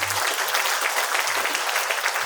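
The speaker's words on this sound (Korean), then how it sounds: "큰 박수 한 번 더 쳐주시면 감사하겠습니다" Dense, continuous applause from a crowd at a memorial ceremony in Incheon, steady and fairly loud throughout, with no voices standing out.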